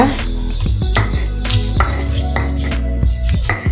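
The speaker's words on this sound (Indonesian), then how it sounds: "pertama kita ulek dulu bawang putihnya ya" Garlic pounded with a stone mortar and pestle (ulek), a quick series of sharp, close knocks and grinding thuds in an uneven rhythm over a busy background.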